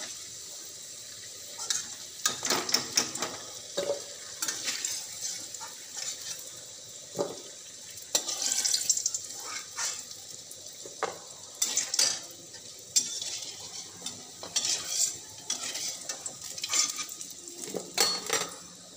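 Potatoes frying in a pan with steady sizzling, broken by clinks and scrapes of a utensil against the pan as the pieces are stirred and lifted out.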